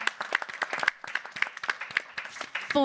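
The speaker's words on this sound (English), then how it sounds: "I think deserves the biggest round of applause" A small room of panel-discussion attendees at a talent summit gives scattered, uneven applause, with individual claps picked out clearly in short, fairly faint bursts.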